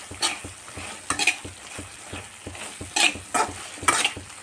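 Okra frying in a little oil in a pan, with steady sizzling under repeated stirring scrapes and spatula knocks in a loose rhythm, close and fairly loud.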